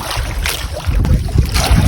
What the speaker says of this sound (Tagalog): Dinaanan kami ng ipo-ipo mga katudaw.